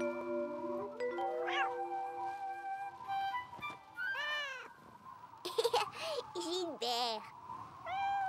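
A cartoon cat in a French-language Caillou episode, frightened during a thunderstorm, meows repeatedly: several rising and falling meows and drawn-out wails, close and fairly loud over soft background music.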